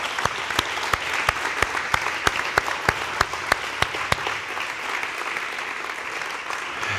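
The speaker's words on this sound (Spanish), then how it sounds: "Vamos a darle un aplauso al Señor" A young church congregation applauds for the Lord, a bed of crowd clapping with one loud, close pair of hands beating a steady rhythm before fading into the general applause.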